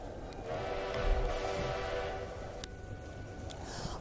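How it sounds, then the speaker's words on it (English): A Polar Express train whistle blast as a sound effect during an elementary school stage musical, a moderate tonal whistle sounding for a couple of seconds over faint room ambience, followed by quieter clicks and rustle. "The Polar Express let out a loud blast from its whistle and sped away."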